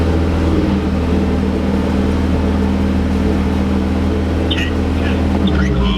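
Turbocharged 8th-generation Honda Civic engine, just built and on its first start, held at a steady 2,500 RPM with a loud, constant drone close by, while people speak briefly near the end.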